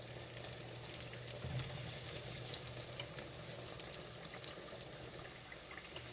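Pork chops frying in a pan until crispy, giving a low, steady crackling sizzle that runs throughout at a modest level, with no speech.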